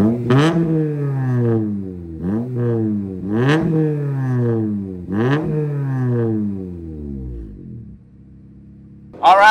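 A K-swapped 1982 Lancia Beta Zagato Stradale engine revving up several times in a row, each rev rising sharply then falling away, loud and close, with a brief quieter idle before a final burst.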